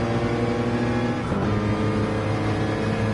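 Race cars roar through turn 1 at Fuji in a racing video game, a dense, steady wall of engine drone with cars running side by side and a brief pitch sweep as one passes close.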